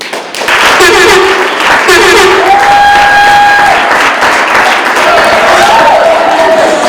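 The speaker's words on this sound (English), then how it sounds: "Ladies and gentlemen, a round of applause for Fayez Tambo" Loud applause and crowd noise at an awards ceremony, dense clapping throughout with sustained musical tones sounding over it.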